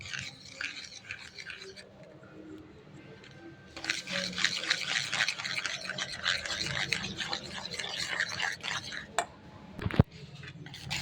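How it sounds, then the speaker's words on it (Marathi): Chakka (strained yogurt) being whisked with sugar for dry fruit shrikhand: a soft, steady scraping and rubbing against a bowl, quieter for the first few seconds, then louder and continuous, with a brief sharper knock near the end. "आता उरलेली अर्धी वाटी सुद्धा आपण साखर मिक्स करून घेऊ आणि चक्का चांगला फेटून घेऊ"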